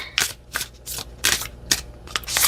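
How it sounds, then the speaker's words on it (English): A deck of oracle cards being shuffled by hand, with six or seven quick riffling bursts in an uneven rhythm, close and fairly loud, with no talking. "I'll give it a shuffle again to make sure."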